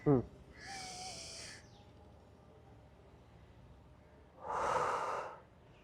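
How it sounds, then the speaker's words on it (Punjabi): A long breath drawn in through the nose during a breathing exercise for calm and sleep, a soft airy rush heard twice, close and fairly loud, with a quiet gap between. "ਫਿਰ ਅਸੀਂ ਇਸ ਤਰ੍ਹਾਂ ਕਰਕੇ ਅਸੀਂ ਨੱਕ ਦੇ ਰਾਹੀਂ ਲੰਬਾ ਸਾਹ ਖਿੱਚਾਂਗੇ"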